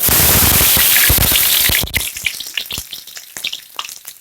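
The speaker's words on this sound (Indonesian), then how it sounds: "Kita akan menggoreng, menumis secara bersamaan bawang putih." Loud hissing sizzle of garlic frying in hot oil, a dense crackle that suddenly drops to scattered pops and spatters.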